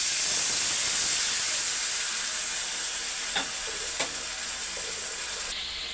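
Paneer masala frying in a pan with its prepared sauce gives a close, steady sizzle with soft bubbling and a faint stir or two, heard alone without talk.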